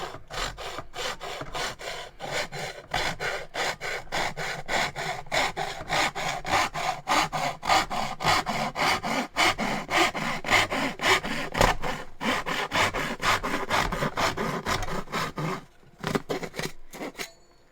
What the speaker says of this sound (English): that's how you want to use a pull saw